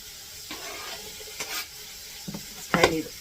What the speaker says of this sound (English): Get that all stirred up here.